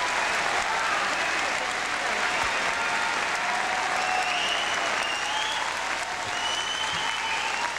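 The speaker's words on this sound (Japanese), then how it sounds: "温かい拍手をお願いします" Sustained applause from a boxing crowd honoring a newly crowned champion after a title fight, dense and steady clapping filling the hall throughout with a low murmur of voices underneath.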